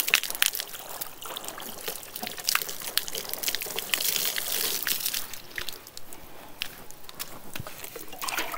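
Water is poured over the body during a ghusl bath, heard as a continuous close splashing and trickling onto skin and a hard floor, with no talk.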